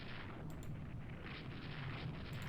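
Rule the Waves III naval battle sounds: a continuous rumbling roar of distant ship gunfire and shell hits, a dense, low, muffled barrage with faint sharper cracks and no voices.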